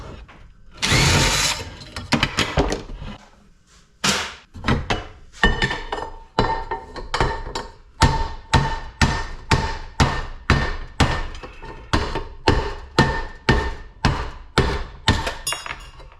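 A hatchet chops in a steady run of roughly two dozen sharp, close blows, about two per second, after a harsh opening burst of scraping and clatter.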